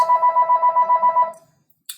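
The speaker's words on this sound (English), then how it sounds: "Phone ringing." A telephone rings loudly and close in a fast, even trill of about a dozen pulses, then stops abruptly, followed by silence and a brief click.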